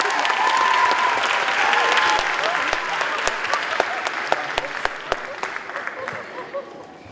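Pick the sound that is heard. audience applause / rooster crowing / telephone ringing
audience applause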